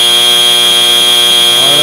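End-of-match buzzer at an FTC robotics league meet, a loud, steady electronic tone held continuously through the whole stretch.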